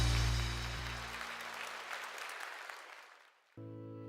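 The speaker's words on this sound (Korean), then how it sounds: "우리 다시 한번 뜨겁게 박수해 주시기 바랍니다." A church congregation at a Sunday worship service applauds, a broad wash of clapping that fades gradually over a few seconds, with amplified music and voices sounding briefly at the start and after it ends.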